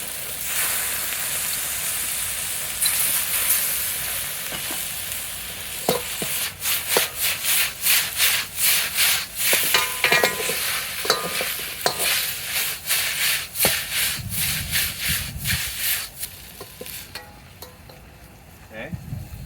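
Beef chow fun being stir-fried outdoors in a wok, a loud steady sizzle broken by a fast rhythmic run of metal spatula scrapes and tosses, close up, with brief voices now and then.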